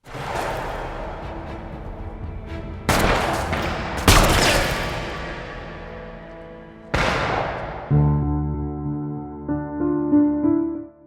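Several loud gunshots from a film ring out in a burst, with sharp cracks echoing and decaying, followed by tense music swelling at the end.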